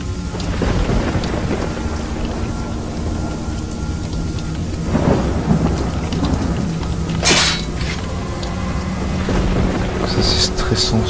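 Steady night rain pours over a rural village in Resident Evil 4, with rumbles of thunder rolling through and a sharper crack near the middle, the downpour continuous throughout.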